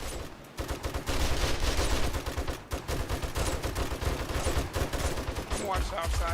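In the 7 Days to Die game, sustained heavy gunfire from several weapons pours out almost without a break, loud and continuous, with voices faintly underneath.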